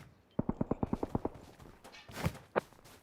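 A rapid burst of about nine gunshots rings out in the BGMI mobile battle royale game, followed by a few scattered reload-like clicks and thumps. The shots are close and evenly spaced, and there is no talk over them.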